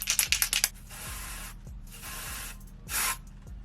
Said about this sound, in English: So I'm going to take my Red by Kisses lace tinting spray.